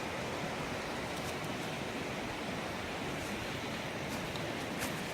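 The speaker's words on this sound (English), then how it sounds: "It sounds like there's a waterfall somewhere." Steady broadband rush of a distant waterfall in a wooded hiking reservation after a nor'easter, a constant even roar with no voices.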